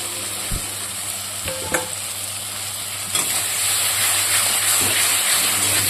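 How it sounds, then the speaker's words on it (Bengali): Fried potatoes tipped into a pan of sautéed tomato, with a steady sizzle and hiss of frying and a few stirring knocks, the sizzle growing louder and brighter about halfway through. "এবার আমি ভেজে রাখা আলুগুলো দিয়ে দেব"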